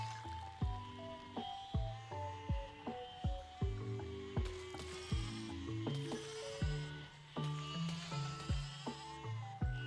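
Many sheep in the video game Besiege bleat over and over, with loud, wavering cries overlapping in a dense chorus above faint mechanical clatter.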